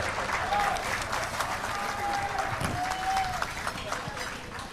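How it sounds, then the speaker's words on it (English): Audience applause at a peace conference in Washington, D.C.: a full, dense round of clapping from a crowded room, steady and fairly loud, with a voice faintly audible over it. "Please give a big round of applause."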